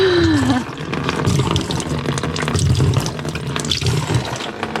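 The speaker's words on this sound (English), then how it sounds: "This is the first time water's come through the drain." Water runs loudly through a marine sink drain in a camper van, a close, continuous gurgling rush with a brief rising tone at the start and irregular splashes throughout.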